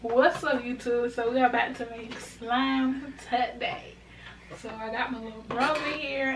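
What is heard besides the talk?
No distinct noise like a dog, phone or traffic.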